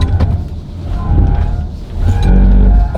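A 2026 BMW iX3 electric car driven hard through a slalom, with loud low road and tire rumble, surging motor whine and brief tire squeal as it swings through the turns, close up inside the cabin.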